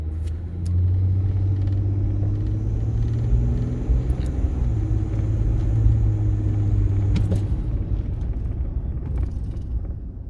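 Ford F-150 pickup from the 2009–2014 generation driving with moderate braking, a steady low engine and road rumble that holds for several seconds, then eases off toward the end.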